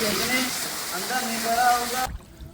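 Floodwater in a village pours and rushes steadily, knee-deep, a constant watery wash that cuts off abruptly near the end, with voices talking over it.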